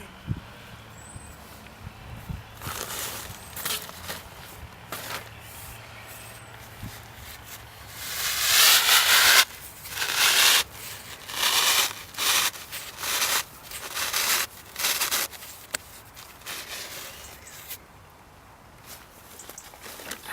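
A tool bores deep holes in a sandy soil bed for exhibition stump-rooted carrots, giving repeated rough grinding and scraping strokes in rhythmic bursts after a quieter start, close and fairly loud.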